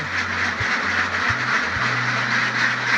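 Ducks on a duck farm quack in a dense, continuous chorus, many birds calling at once close by, with a steady hissing background and no talking.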